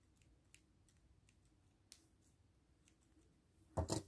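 Scissors snip yarn during a crochet session, with a few faint, isolated clicks spread across a quiet room, then a louder double snip near the end.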